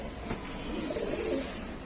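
Soft pigeon cooing rises from a crowded pigeon market, a low murmuring coo heard fairly close against steady background noise, with no one speaking.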